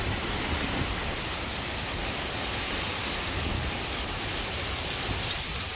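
Hurricane Ian wind and a rain band arriving in North Port, a loud, continuous roar of rushing wind and pouring rain that stays dense and steady throughout without a break.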